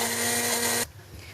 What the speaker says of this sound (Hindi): और अब इसको मैं ग्राइंड कर लूँगी